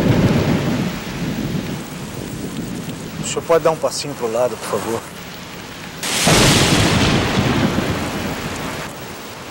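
Rain and thunderstorm effect in a Samsung commercial: steady rainfall with rumbling thunder, a loud thunderclap bursting in midway, and people talking over the storm.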